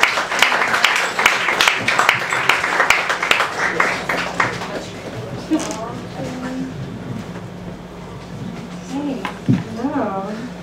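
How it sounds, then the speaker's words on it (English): Audience clapping at an open mic night, a few seconds of scattered, fairly sparse applause that fades out, followed by a voice speaking close to the microphone and a few whoops. "Give a big round of applause for Abby Rose, everybody."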